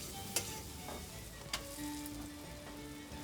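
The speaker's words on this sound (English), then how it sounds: "I need to be careful as I'm frying up my bread crust." Bread crust fries in melted butter in a pan with soft sizzling and a few sharp clicks and scrapes of a utensil against it, steady and close.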